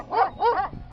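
A dog among a flock of Karakachan sheep in the Macedonian pastures gives two or three short, close yelping barks in quick succession, with no talk over it.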